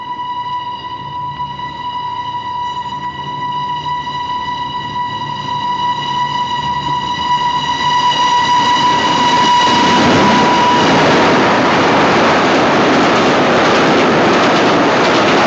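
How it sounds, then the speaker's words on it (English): An express boat train passes through a station, opening with a long steady horn blast and then building into a loud, close roar of rushing carriages that drowns everything else. "No, it's the express. The boat train."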